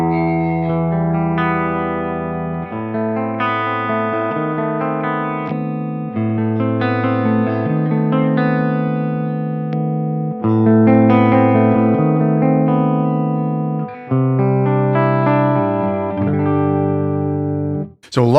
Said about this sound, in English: so we could even get cleaner tones out of this amp